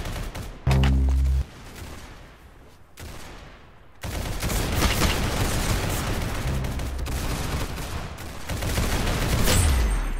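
Gunfire in the Roblox Arsenal shooter game, with a heavy blast early on, then sustained bursts of rapid shots and booming impacts that grow louder near the end.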